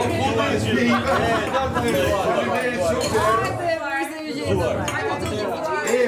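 Glasses clink in a toast among a group of housemates at a table, bright chinks scattered under lively overlapping chatter and cheering.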